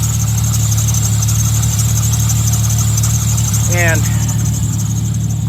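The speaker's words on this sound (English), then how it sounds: "It kind of sounds like it's the power steering." A car's power steering pump gives off a steady high whine over a running, idling engine, with a brief rising squeal near the end, all heard close up.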